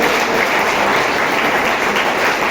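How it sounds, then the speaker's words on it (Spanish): Loud, sustained applause from a large church congregation, dense clapping filling the space evenly without a break. "Dale un fuerte aplauso al Señor."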